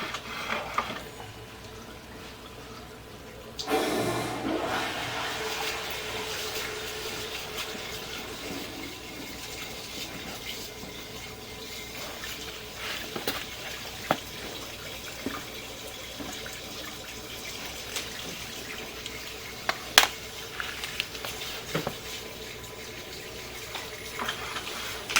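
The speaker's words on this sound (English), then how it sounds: "I'll go ahead and flush this one again." Toilet flushed during a sewer line inspection at a house, a sudden rush of running water starting a few seconds in and continuing steadily, with scattered clicks and knocks over the flow.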